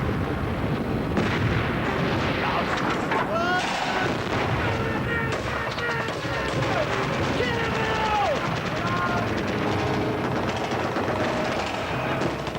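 Blank gunfire and battle noise at a WWII living history reenactment in woods in Kent, a dense continuous din of shots and booms with shouting voices over it.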